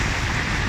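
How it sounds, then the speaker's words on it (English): Heavy rain pours down steadily, a dense, loud, continuous hiss with no pauses or speech. "it's raining heavily"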